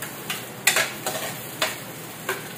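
Onion tossed into a hot pan with ginger, giving bursts of sizzling frying and stirring scrapes in several short spaced pulses, close and moderately loud.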